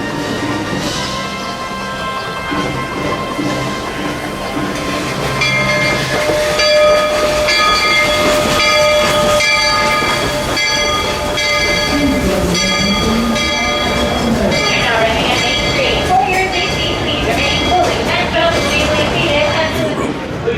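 The Walt Disney World Railroad steam train at Magic Kingdom, heard on board as it rumbles and clatters steadily, with whistle tones and hissing. A voice speaks over the train noise.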